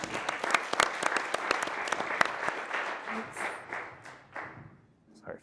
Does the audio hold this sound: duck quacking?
no